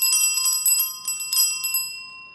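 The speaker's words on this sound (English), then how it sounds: "lovely bell sounds" A brass bell rings with bright, sustained metallic tones, several quick strikes close and loud in a clustered sequence, ringing out alone and fading at the end.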